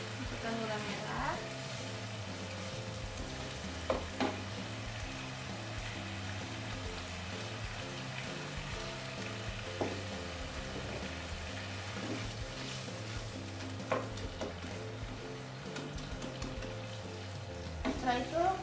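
Cooked spice paste for spicy semur jengkol sizzling softly in a pan after a splash of water, a faint bubbling fry with occasional stirring scrapes beneath a low, rhythmic hum.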